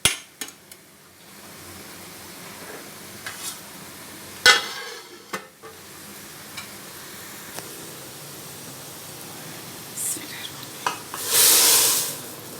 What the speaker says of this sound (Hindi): लें जी, लग गया दाल को तड़का।